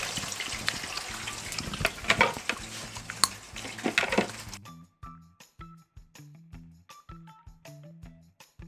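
Sweet potatoes sizzle in a hot frying pan, a dense crackling hiss for the first half that gives way to gentle stirring taps and scrapes of a utensil against the pan, close and moderately loud.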